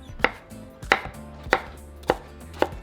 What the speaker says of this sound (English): And then we're going to cut them into little cubes.